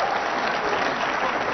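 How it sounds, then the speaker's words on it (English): A pool crowd at the Mosconi Cup gives brief, modest applause, a steady patter of clapping with no pauses. "Modest applause"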